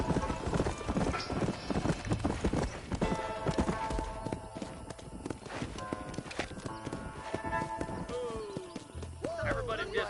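Several horses walk in the Red Dead video game, their hooves clip-clopping in a busy, overlapping rhythm that stays close and steady throughout, over outdoor ambience and a brief creak near the end.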